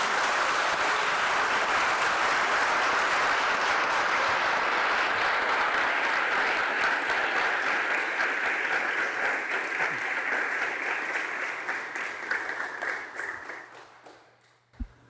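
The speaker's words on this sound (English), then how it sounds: "So again, another round of applause." An audience applauds the mock trial teams at a state high school finals, with dense, sustained clapping that holds steady and then thins out and fades to quiet near the end.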